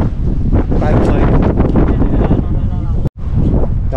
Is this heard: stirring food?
no